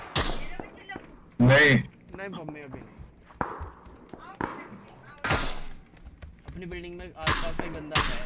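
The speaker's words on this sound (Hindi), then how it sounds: "स्कूल में फायरिंग बहुत चल रही है।" PUBG gunfire on the Erangel map around a school building, sharp separate loud shots spaced out over several seconds, someone talking quietly between them.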